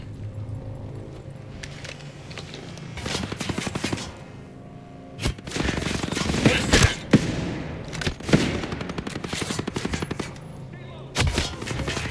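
Gunfire in the tactical shooter Ghost Recon Breakpoint: repeated rapid bursts of automatic weapon fire, loud and close, in several volleys with short pauses between, plus sharp single shots over a low game background.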